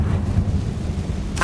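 A fiery blast spell from the video game Hogwarts Legacy rumbles low and heavy like distant thunder, a continuous booming roar with a brief brighter burst near the end.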